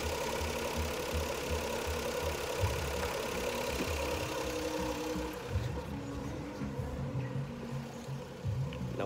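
A Daihatsu Hijet van engine running steadily nearby, a continuous low knocking idle with a rhythmic mechanical clatter.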